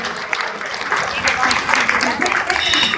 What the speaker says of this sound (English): We want to give them a round of applause because they are volunteers